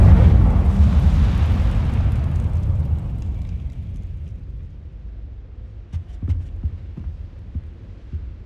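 An Incendio fire spell is cast in Hogwarts Legacy, a loud whooshing burst that slowly fades into a low rumble, followed by a few soft thuds.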